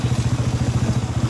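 Motorcycle carrying three riders, its engine running with a steady throbbing pulse, close and fairly loud, no voices over it.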